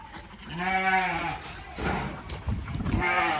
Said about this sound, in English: Just getting the first cross ewes from 3 paddocks that way